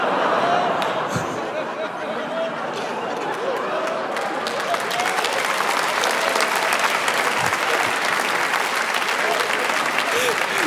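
A podcast audience applauds a comedian, with clapping swelling into a dense, loud burst in the second half, scattered laughter and chatter underneath.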